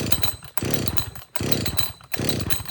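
A modern chainsaw on choke at fast idle, in three loud, close bursts of rough running or cranking, each cut off by a brief gap, with no talking.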